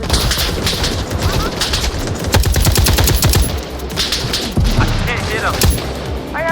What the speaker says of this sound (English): I didn't even know where the shots were coming from